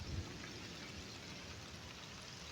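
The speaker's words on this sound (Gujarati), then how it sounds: "વરસાદ અત્યારે ભાઈ ફૂલ આવી ગયો છે" Dense, steady hiss of heavy rain pouring down evenly throughout, with a low rumble underneath.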